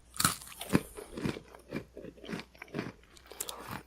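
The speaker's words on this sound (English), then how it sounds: "I'm just going to bite one of these into the microphone so our listeners can hear that these do have some crunch factor to them" Nabisco Chicken in a Biskit crackers bitten close to a microphone, giving a series of sharp, dry crunches and crackles spread across a few seconds of steady chewing, with no talking.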